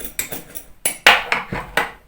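A small metal spoon scrapes and taps against a bowl while prying loose goji berries that are stuck together, giving a quick series of about seven sharp clinks and scrapes, close and clear.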